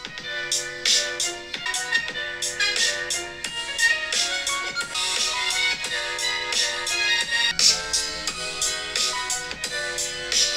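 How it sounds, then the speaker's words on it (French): Music plays loudly from the top and bottom stereo speakers of a Doogee V31 GT rugged 5G smartphone, with a continuous rhythmic beat and melody and no voices over it. "Donc on lance la musique et je vais augmenter."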